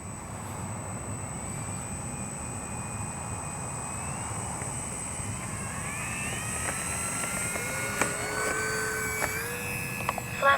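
An X-Fly Spitfire RC warbird model airplane takes off, its motor a steady mid-distance drone with whining tones that rise and climb, growing louder toward the end, with no talk.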